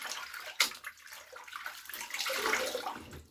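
Water splashing while washing the face off after a straight razor shave, a close, continuous watery swishing with a sharp splash near the start, no talking.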